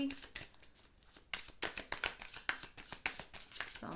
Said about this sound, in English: otherwise it's going to take forever with the shuffling